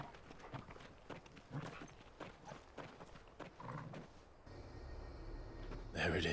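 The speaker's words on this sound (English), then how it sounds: "I hear stomping." Heavy stomping footsteps thud in a steady, rhythmic march in Final Fantasy XVI, moderately close under a low game ambience, giving way to a rumbling drone near the end.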